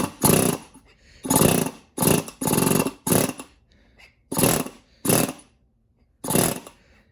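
Bursts from a standard impact tool worked with no bolt in it, eight short loud rattling runs with brief pauses between them, close up and alone.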